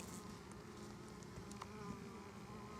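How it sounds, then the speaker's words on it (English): Insects buzz steadily close by as a wasp attacks a bee on the ground among many bees, a faint continuous drone with small flickers and no voices. "It's a wasp attacking a bee."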